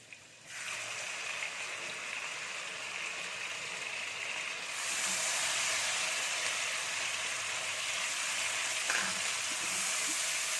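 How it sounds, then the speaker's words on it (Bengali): Marinated chicken dropped into a hot pan with fried chopped garlic bursts into a loud, steady sizzle that swells partway through and keeps hissing close up, with a faint clink and no talking. "দেন এটার মধ্যে এখন ম্যারিনেট করা চিকেনগুলো দিয়ে দিব।"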